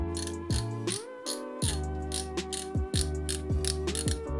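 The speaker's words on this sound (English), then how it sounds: "So here is the star drag." Loongze Airlite baitcaster fishing reel, its star drag turned to give a run of sharp mechanical clicks and ratcheting ticks, close up and fairly quiet, with no talking.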